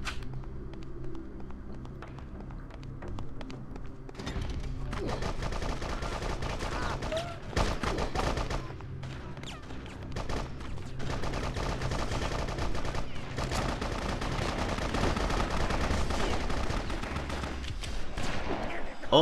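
Rapid gunfire from the video game BloodRayne, including a large gun, crackles in dense, sustained bursts with short lulls, loud and close throughout.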